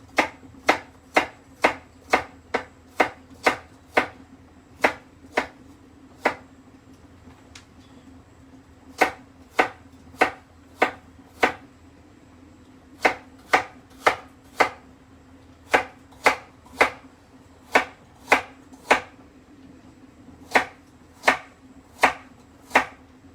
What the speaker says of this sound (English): Carrots here we're going to chop up quite small as well.